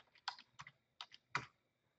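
Short bursts of computer keyboard typing as a team member's name is entered in CRM 2015 software, a few quick clustered keystrokes close and fairly quiet, with no talking.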